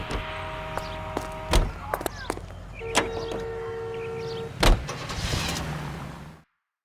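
A car from LA Noire rolls along with a low engine hum, broken by a few sharp thumps and clunks, while voices talk over it before the sound cuts off.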